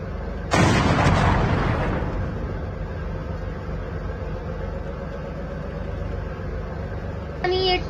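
A loud blast of tank cannon fire in Call of Duty Mobile battle royale booms out and decays into a steady rumbling game soundscape, with a short sharp burst near the end.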